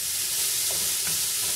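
Onion sautéing in a pan for a creamy cassava soup, a steady soft sizzle and hiss with faint stirring scrapes, close and continuous, no talking.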